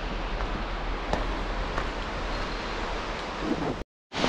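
A waterfall in a mountain gorge in Adygea rushes as a steady, broad roar of falling water, continuous and fairly loud with no voices, cutting out briefly near the end.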